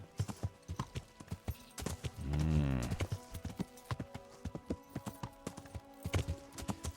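Horse hooves clip-clopping in the medieval open-world game Kingdom Come: Deliverance, a steady run of close, rhythmic hoofbeats with a brief louder animal snort or whinny midway.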